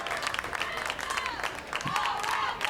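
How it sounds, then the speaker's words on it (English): A crowd at a state championship baseball game applauds steadily as the home faithful cheer, with an announcer talking over the clapping throughout. "With a round of applause coming out here for the Marissa faithful."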